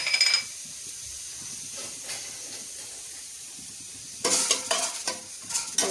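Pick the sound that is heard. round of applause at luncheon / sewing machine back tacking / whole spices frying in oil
whole spices frying in oil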